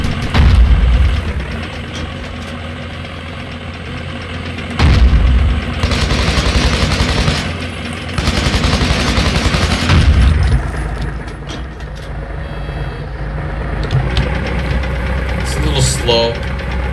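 Heavy tank engine in Garry's Mod rumbling at low speed, a deep continuous drone with periodic heavier booms, loud and close, with voice talking over it at times.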